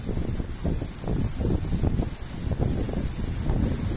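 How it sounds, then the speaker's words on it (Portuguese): Strong wind storm carrying smoke and dust during a wildfire roars and buffets the microphone continuously, with gusting low rumbles and a steady hiss throughout. "Tempestade de vento com fumaça"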